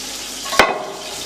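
Chopped onions dropped into hot groundnut oil, one sharp hiss as they land, then a quieter steady sizzle of frying close by.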